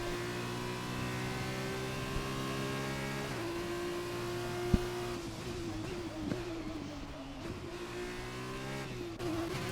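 Formula 2 race cars in a sim-racing league event, engine notes droning steadily and shifting pitch as they lap, continuous and fairly loud with a brief sharp click midway.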